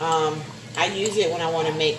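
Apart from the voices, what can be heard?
None of the usual background noises is heard.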